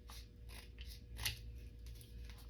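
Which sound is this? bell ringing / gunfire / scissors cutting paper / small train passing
scissors cutting paper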